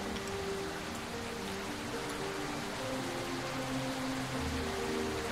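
Rain in a Tormenta20 RPG game, an even, unbroken hiss of falling rain with a faint low tone running underneath.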